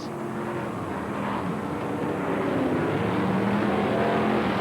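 F1 stock cars race at Mildenhall, their engines a steady, loud, rising roar, with no voice in the sound.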